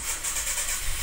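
A Nissan Terrano engine after a carburetor swap, heard at close range as a brief, loud, steady mechanical rumble, with no voices.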